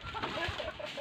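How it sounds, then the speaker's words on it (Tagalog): A chicken clucks in short, close, soft bursts over a brief stretch, with faint background noise and no talking. "Isang manok!"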